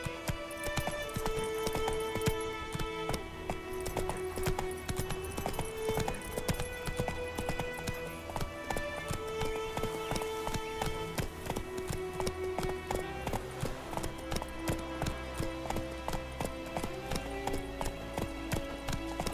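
Hoofbeats of the horse Roach galloping in the video game The Witcher 3, a continuous, fast clip-clop rhythm at steady volume with background game music tones and no speech.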